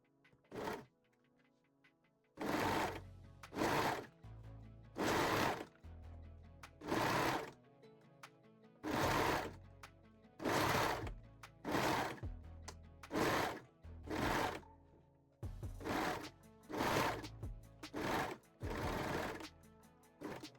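A sewing machine stitches a lingerie bralette in repeated loud bursts of whirring, about a dozen short runs separated by brief pauses, close up with no talking.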